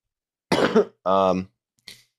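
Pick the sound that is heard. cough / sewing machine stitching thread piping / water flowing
cough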